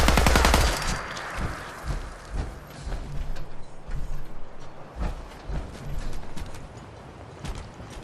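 Gunfire in Fallout 4's Far Harbor expansion: a loud opening burst, then scattered shots and clattering mechanical bursts of varying intensity against game ambience, with no talk.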